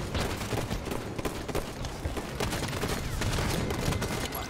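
Rapid, continuous gunfire from a Halo 5 ranked multiplayer match, dense overlapping shots and bursts that hold steady and loud for several seconds with no talk.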